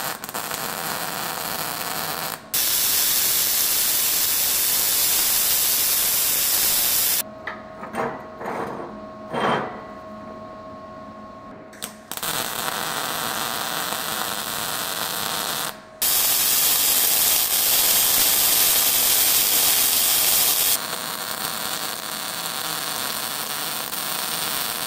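Harbor Freight Titanium 170 welder welding 1/8 inch steel, loud steady hissing and crackling arc in several long bursts separated by pauses filled with softer clicks and handling noise, nearby with no talk.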